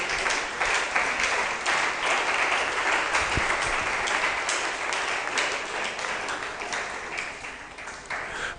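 A church congregation applauds steadily, a dense, sustained wash of many hands clapping at close range with no break throughout.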